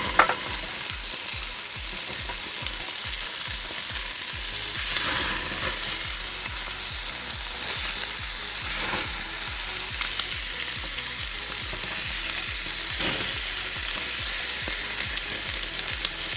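Burgers sizzling on the bare, unoiled grate of a Weber Baby Q gas grill, a loud continuous close sizzle with a steady crackle and a few faint scrapes.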